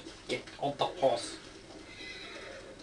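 A horse neighs in a few rising bursts in the video game Ghost of Tsushima, fairly close, followed by a quieter stretch of background noise.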